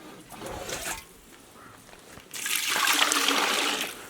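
Water poured into a glass or mug outdoors on a cold mountain trek near Tungnath and Chopta, a short trickle followed by a stronger, steady splashing pour.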